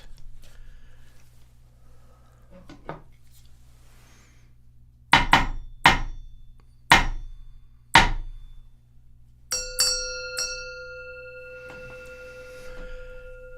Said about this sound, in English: Hearing the sound of the bell, all thinking is cut off.